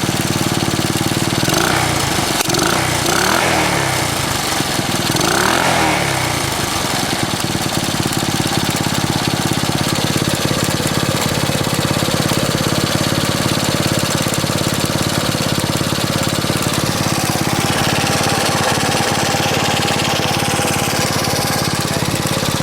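A 1964 Honda S90 motorcycle engine, just out of storage, runs loudly and continuously with a rough, rattling putter, briefly surging a few times early on, then holding a steady idle.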